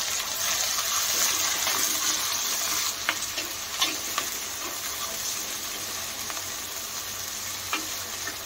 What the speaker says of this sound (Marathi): आता हे 2 ते 3 मिनिटं आपण परतून घेऊया